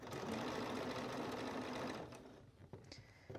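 A sewing machine hums through a quiet, close run of understitching on a dress, then stops, leaving faint handling noises.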